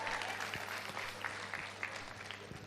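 Students in a lecture hall at a talk show event clap together, a fairly quiet, steady patter of many hands with a low hum underneath.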